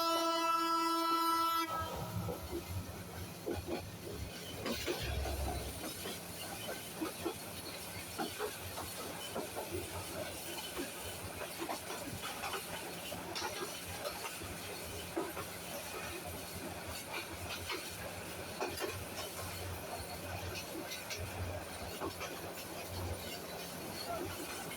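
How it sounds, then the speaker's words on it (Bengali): A passenger train pulls out of Kamalapur station in Dhaka, opening with a brief horn blast before settling into a steady, close rumble and rattle of carriages on the rails that continues throughout. "কমলাপুর রেল স্টেশন থেকে ট্রেন ছেড়ে দিল"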